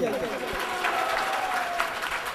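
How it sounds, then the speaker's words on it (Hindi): An audience at a lecture gathering breaks into dense, continuous clapping that stays fairly loud throughout, with voices mixed in underneath. "इनके लिए ताली बजाइए"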